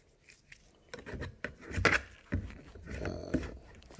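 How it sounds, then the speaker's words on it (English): A trim tool prying up the tail light housing clips on a third-generation Cadillac CTS-V, producing a quick series of faint clicks, snaps and plastic rubbing, close and irregular. "You can use a little trim tool to pry up, and you'll hear a bunch of little clips going."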